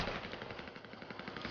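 Rapid automatic gunfire in GTA Online, a fast steady burst of shots repeating evenly throughout, moderately loud and without talk.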